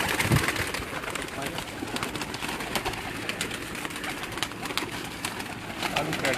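A Teddy breed pigeon coos in low throaty bursts amid a noisy, busy backdrop, with people's voices talking nearby and scattered clatter throughout.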